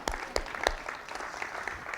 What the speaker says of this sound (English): I'm going to give you a round of applause for just showing up.